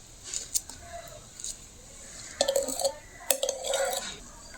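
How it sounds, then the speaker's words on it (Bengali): Small bananas sliced into pieces for a sago fruit dessert, giving light intermittent clinks and taps of a knife against a dish and bowl, fairly close and quiet. "এইভাবে কেটে কেটে দিয়ে দেবো কলাগুলো"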